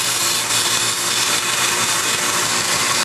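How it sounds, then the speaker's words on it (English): A strip sander rounds a wooden cam pushblock with a loud, continuous abrasive whir and grinding hiss that holds steady throughout, close up and with no voices. "Lucky for me, I've got a strip sander and I'm just gonna do it really quick."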